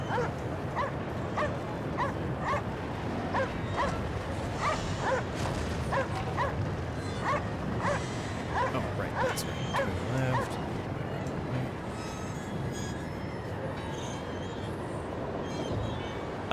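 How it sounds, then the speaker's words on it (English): Dog barking repeatedly in yips and bow-wows heard through a gaming headset while playing the Eastern European game Cryostasis, a steady run of sharp barks over constant background noise, thinning out toward the end. "If I can hear the dog barking through my headset from that headset, it's loud."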